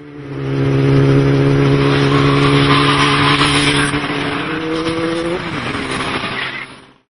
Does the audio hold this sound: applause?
no